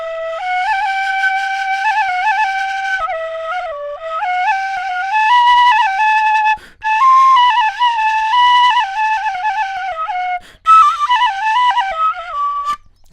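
A flageolet whistle plays a clear, close, breathy melody with sliding pitches and a few short breaks between phrases, loud and alone without talking.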